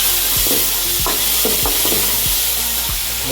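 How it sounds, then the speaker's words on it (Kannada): Ginger garlic paste sizzles and fries steadily in a hot pan for a tomato tokku, with several distinct scraping strokes of a spoon stirring it at irregular intervals; no talk. "ಇದಕ್ಕೇನೆ ಶುಂಠಿ ಬೆಳ್ಳುಳ್ಳಿ ಪೇಸ್ಟ್ ಹಾಕೊಳ್ಳಿ"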